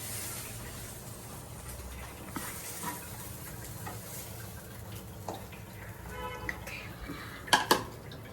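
Cooked methi matar malai is scraped and spooned into a bowl, with soft scattered clinks of utensil on cookware through low kitchen noise, then two sharper metallic taps near the end.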